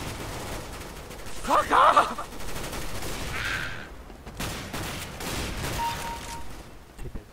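Gunfire rattles through a CS:GO match, with bursts clustered early and scattered shots later, mid-loud under a player's shouted voice and game noise.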